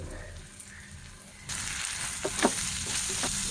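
Vegetable bhaji frying in a pan in a home kitchen, a quiet sizzle that jumps louder halfway through as chopped coriander goes in, followed by a few stirring scrapes under the constant hiss.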